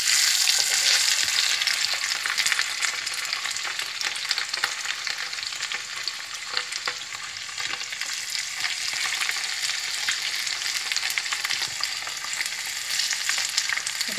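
Sardines fry in hot oil for a Moroccan-style dish, a dense, continuous crackling sizzle with spitting pops, close and loud throughout with no talking.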